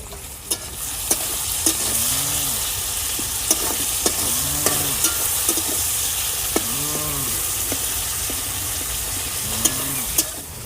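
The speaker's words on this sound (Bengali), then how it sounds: "পেঁয়াজ আর টমেটোটা হালকা করে ভেজে নিয়েছি" Chopped onion and tomato with salt fry in a pan for a cabbage and potato curry, a steady close sizzle with frequent stirring scrapes and clicks throughout, with a low tonal hum underneath.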